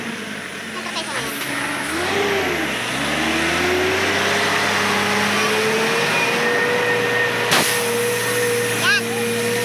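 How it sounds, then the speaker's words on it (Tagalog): A truck hauling gravel from a wide riverbed passes along a rough rural road. Its engine swells and rumbles loudly nearby with a steady mid-pitched drone, and people shout and talk over it. "yung truck na kumukuha ng mga graba doon sa dinadaan namin"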